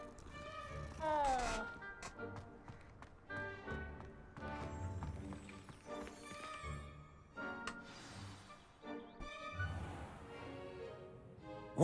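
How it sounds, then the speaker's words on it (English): A cat meows in Hogwarts Legacy, a few short mews mixed in with a busy game soundtrack and background noise. "Oh, I can pet a cat."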